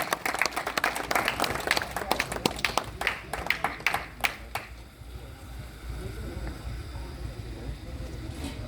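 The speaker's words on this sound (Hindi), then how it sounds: "आप लोग तालियां बजाते रहें" An audience claps through an award ceremony at a Kargil Defence Academy talent felicitation event. Dense, fairly close applause runs for about four seconds, then fades into quiet room tone.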